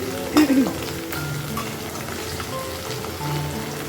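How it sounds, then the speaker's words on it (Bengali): Potatoes fry in a pan, an even crackling sizzle running steadily, with a louder knock and scrape near the start. "আর এই দেখো আলুগুলো একটু ভাজি করে নিচ্ছি"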